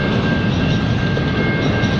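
Freight train hauling auto rack cars rolls past at rush hour in St. Henri, Montreal, a loud, steady rumble and rattle of wheels on rails filling the whole stretch nearby.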